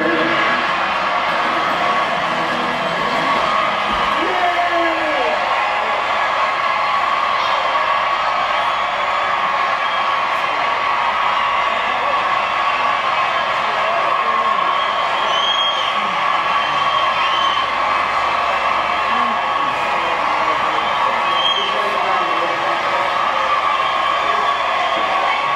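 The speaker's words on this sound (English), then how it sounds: "The applause goes on and on and on" A large audience keeps up sustained applause and cheering at a country music show, a dense, steady roar of clapping with scattered whoops that runs unbroken at an even, fairly loud level throughout.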